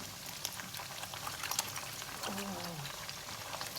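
Boiled water pouring into a pot with a steady splashing trickle, fairly quiet and close, with faint murmuring voices underneath.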